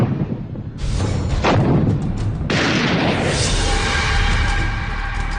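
Artillery shells boom in a Kargil war sound effect, with loud, dense blasts arriving in overlapping waves and a sustained rumbling roar that fills the background.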